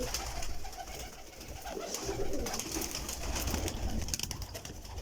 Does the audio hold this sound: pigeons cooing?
yes